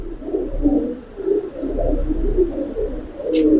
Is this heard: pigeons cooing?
yes